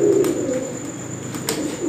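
Sialkoti pigeons coo softly and repeatedly close by, low throaty calls rising and falling over a quiet background.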